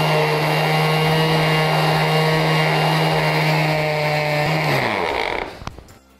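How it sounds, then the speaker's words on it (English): A power sander grinds down a chunky epoxy floor with embedded sheetrock pieces. It runs as a loud, steady whine for about five seconds, then spins down and stops, with no talk. "We're gonna sand this down now."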